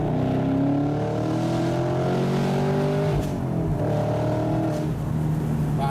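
A Camaro SS convertible's engine revs hard and accelerates, pitch climbing through the gears of its 6-speed manual with a loud, continuous roar close by.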